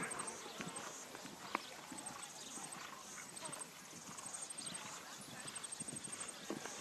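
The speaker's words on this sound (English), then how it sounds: "the horse is Mr. Carlo from the Bay of Plenty area" Steady clip-clop of horse hooves on soft arena ground at a dressage competition, rhythmic and fairly close, with a crowd murmuring faintly in the background.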